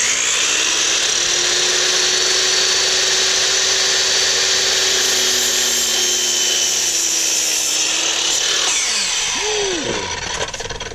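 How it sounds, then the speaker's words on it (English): A miter saw cuts a wooden board in a garden setting, a loud steady whine of the spinning blade running for several seconds, then winding down with a falling pitch after the cut finishes. "And that's how we use a miter saw."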